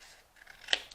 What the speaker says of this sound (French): Maintenant, je vais venir couper ici, ces petites choses-là.